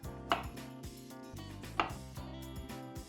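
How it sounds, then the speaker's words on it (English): A knife chops a block of firm tofu into one-centimetre cubes on a board, giving two sharp, distinct strikes about a second and a half apart amid quieter kitchen sounds, with no talking. "We're gonna chop it into 1 centimeter"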